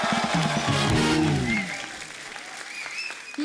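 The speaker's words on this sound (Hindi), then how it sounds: "जोरदार तालियां इस ब्यूटीफुल कपल के लिए" Studio audience applauding loudly for a celebrity couple on a Hindi comedy talk show set, steady dense clapping with music, easing off near the end.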